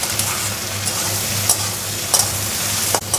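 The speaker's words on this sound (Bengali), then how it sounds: "এবার দিয়ে দেবো ক্যাপসিকাম আর কাঁচা লঙ্কা একসাথে দিয়ে দেবো। একসাথে এবার ভেজে নেব।" Onion, capsicum and green chillies fry together in a pan for a goat head curry, a close steady sizzle with a low hum and several sharp stirring clatters, no talk.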